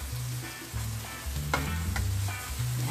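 Onions sauté in a pan with garlic for Filipino-style spaghetti sauce, giving a loud, close, continuous sizzle and frying crackle, with occasional utensil scrapes and a low hum beneath.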